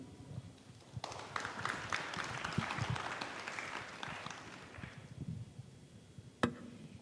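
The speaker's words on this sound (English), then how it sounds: "A big round of applause for our session" An audience at a seminar breaks into applause for the session, a sustained patter of many hands rising after a second and fading out around five seconds, moderately distant, with a single sharp knock near the end.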